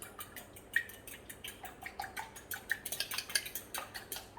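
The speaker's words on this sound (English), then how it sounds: "chuck an egg in that, bit of milk, give it a mix" Egg and milk whisked together in a small mixing bowl, a run of light, quick clinking taps against the bowl with a steady rhythm, close and fairly quiet, with no voices.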